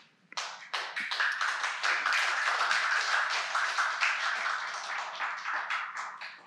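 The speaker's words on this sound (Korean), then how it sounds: "웬 또 박수까지는 기대하지 않았는데 포지티브로 싱킹하겠습니다." Congregation clapping in a church after a sermon closing a two-year Genesis teaching series: sharp individual claps start the burst, which swells into dense sustained applause and then thins toward the end.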